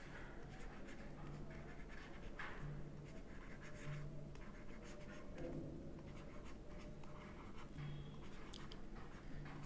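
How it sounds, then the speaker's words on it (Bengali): A pen scratching across paper as a physics question is written out, quiet continuous scribbling strokes with brief pauses, close and faint. "প্রশ্নটা আমি লিখি"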